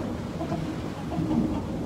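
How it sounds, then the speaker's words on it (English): Heavy pouring rain during a stormy Central Florida day, a dense, steady wash of rain noise with low rumbling thunder underneath, no talking. "It is pouring. Y'all hear it? I don't know if you can hear all the thunder."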